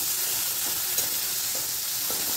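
Crushed garlic and ginger fry in a pan with browning onion, a steady close hiss of sizzling oil with a few faint stirring clicks.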